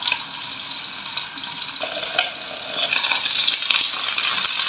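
Ampalaya and tomato fry in oil in a pan, a steady close sizzle with crackling splatter that grows louder and denser in the second half.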